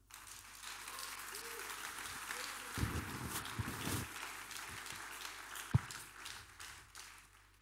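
A church congregation breaks into applause in praise of the Lord, a steady wash of clapping with a louder burst of claps near the middle and a sharp slap toward the end.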